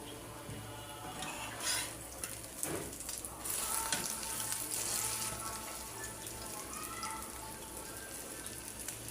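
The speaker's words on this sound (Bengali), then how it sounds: "আমি এখন 2টা ডিম ভাজি করে নিলাম।" Two eggs frying in a pan under a lid, a quiet ongoing sizzle with occasional clinks and scraping of kitchenware and brief watery sounds, heard close and without speech.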